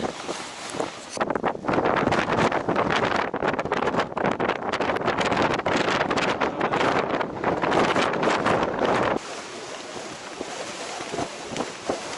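Strong wind roars across a high mountain summit on Mt. San Gorgonio, loud and continuous with buffeting gusts against the microphone, easing to a lower rush near the end.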